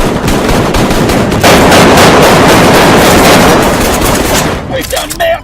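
Dense, loud bursts of rapid gunfire against armored soldiers in the video game Artika.1 run nearly nonstop, thinning out near the end into a few scattered shots and electronic tones.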